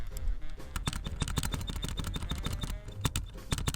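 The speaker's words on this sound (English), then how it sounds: "That's the one thing I hate about the bloody keyboard," A laptop keyboard clatters in rapid, irregular keystrokes close up, with a small high squeak recurring on many presses; no talk.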